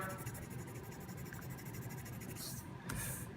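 Low pencil shading back and forth on paper while practicing on a value worksheet, a soft continuous rhythmic scratching heard close and quiet, with no talking.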